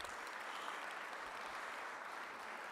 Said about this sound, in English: Let's give the whole crew a round of applause.